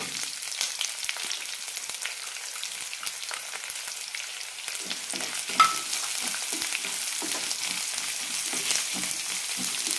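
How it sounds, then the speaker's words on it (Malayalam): Sliced onion with curry leaves, green chili and chopped garlic sizzles steadily in a pan for a Kerala peanut curry, a dense frying hiss broken by soft scrapes and taps of stirring, with no voices. "സവാള ചെറുതായി ചോക്കുന്നവരെ വഴറ്റിയെടുക്കാം"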